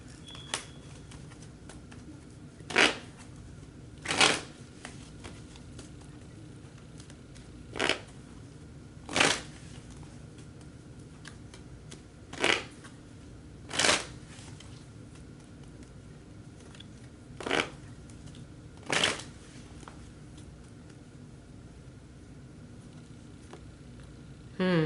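Tarot cards are handled in quiet, sharp bursts of riffling, about eight short shuffling flurries spaced a few seconds apart, close and fairly soft, with no talking.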